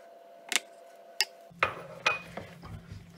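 Modelling chocolate stirred with liquid glucose in a bowl, giving a few sharp utensil clinks and scrapes against the bowl spaced through the stretch, with a low steady hum in the second half.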